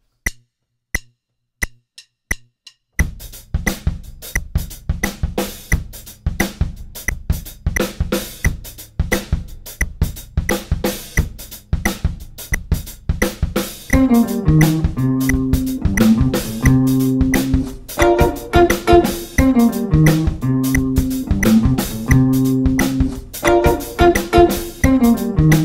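A drum kit plays a funky groove at full tempo, hi-hat, snare and bass drum locked together; a few sparse clicks open before the steady, loud pattern kicks in, growing busier and denser in the second half.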